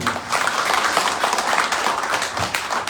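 A crowd applauding steadily at a temple Ramayan Yagya gathering, dense overlapping claps forming a continuous fairly loud patter throughout.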